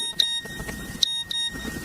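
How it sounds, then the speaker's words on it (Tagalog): Short electronic phone beeps from a text message notification, two or three quick tones repeating over low background noise in a home setting, with no talking. "Oh, may nag-text sa'yo."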